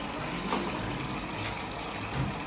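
Water trickles and pours steadily into a child's toy kettle, a soft continuous liquid stream with faint splashes, fairly close and without speech.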